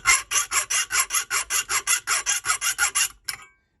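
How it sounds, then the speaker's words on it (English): A hand file rasps across the teeth of a hole saw in a steady run of about fifteen even, rhythmic strokes, close and fairly loud, stopping with one last short stroke. "you're getting almost a perfect angle sharpening the teeth on your hole saw"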